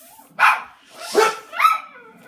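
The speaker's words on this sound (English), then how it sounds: "I think I'm allergic to the barking." Dogs barking nearby, three loud separate barks with whiny yips between them, close and clear with no talk.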